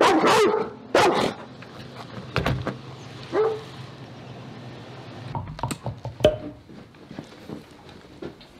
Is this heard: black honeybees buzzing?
no